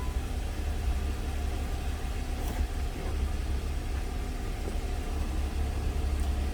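A car engine idles nearby with a steady, low rumble over a faint hiss, holding even for several seconds without talking.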